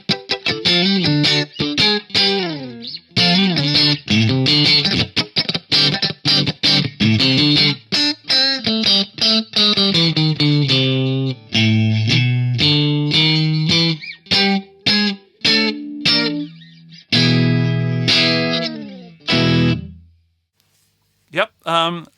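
An Ibanez SEW761FM electric guitar on pickup position 4 with overdrive plays a busy run of distorted notes and chords, loud and close, before ringing out and stopping.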